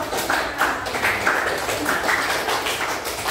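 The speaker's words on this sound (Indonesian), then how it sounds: "Ya, tepuk tangan untuk." A classroom group of students clapping for a presenting group, a brisk, uneven patter of hands at moderate distance that carries on steadily throughout.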